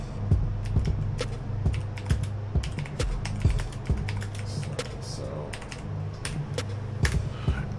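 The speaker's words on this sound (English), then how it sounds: "I've also been typing" Fast, steady typing on a computer keyboard during a practice lobby in a racing video game, with dense close key clicks and clacks in an uneven stream under a faint background hum.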